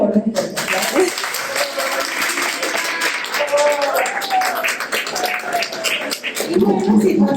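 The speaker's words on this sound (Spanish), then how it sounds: "Les pido por favor un fuerte aplauso." Audience applause at a Spanish-language book presentation, a dense steady wash of clapping filling the room for several seconds, with some tonal voices or sounds mixed in midway.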